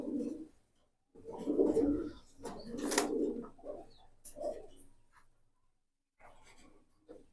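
Jabra Pankhi tota pigeons coo at close range, several low, throaty rolling coos in irregular bursts with short pauses between them and soft rustling in the background.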